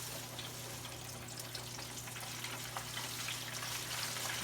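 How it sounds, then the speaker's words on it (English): Flour-coated chicken pieces frying in a deep fryer give a steady, bright sizzle with crackling pops and a constant low hum underneath, with no one talking. "Then I'm going to put it in my deep fryer here."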